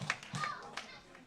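Wrestling crowd at a Monster Factory street fight clapping in support of Christian Darling: a few spaced, rhythmic claps mixed with scattered voices.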